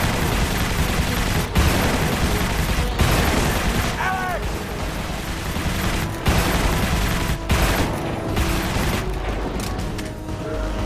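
Dense gunfire and explosions in the Prototype video game, loud and continuous with bursts, booms and mechanical clatter layered throughout, with a player speaking over the action.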